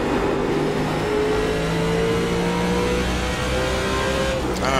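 Race car engines roar in a NASCAR racing video game, a loud continuous drone whose pitch climbs and slides as cars accelerate, with another car whooshing past close by at the end.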